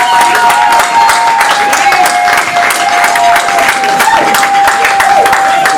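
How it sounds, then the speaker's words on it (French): A lively crowd at a gathering in Douala gives Fabrice a loud round of applause, sustained clapping mixed with cheering voices and a held tonal sound running underneath, close and continuous. "une salve d'applaudissements"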